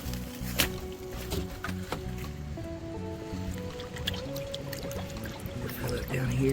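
Water is scooped from a cold, clear stream at an off-grid homestead, with splashing and gurgling pours up close. Outdoor ambience runs throughout.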